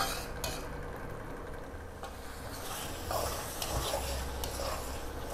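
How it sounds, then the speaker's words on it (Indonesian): Spice paste with lime leaves, galangal and lemongrass is stir-fried in a pan until its water cooks off and the oil separates. A steady close sizzle runs under scraping, clinking stirs, with no talk. "ini digongso sampai airnya menyusut, sampai misah sama minyaknya ya"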